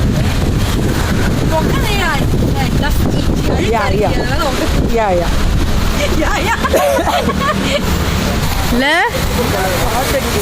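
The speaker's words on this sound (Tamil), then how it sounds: "சரியான காத்து" Strong wind buffets the microphone on a hill-station outing at Yercaud, a loud constant rumbling roar with people's voices faintly mixed in.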